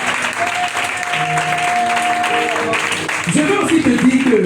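A church congregation claps and cheers in steady, full applause during a Sunday worship service marking International Women's Day, with voices rising through the crowd noise.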